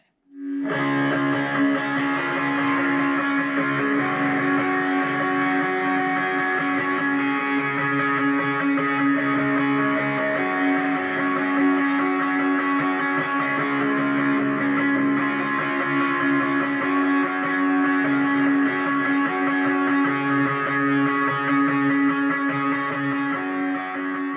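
A heavily overdriven electric guitar plays continuously, thick distorted chords ringing out with sustained gritty tone and no voices.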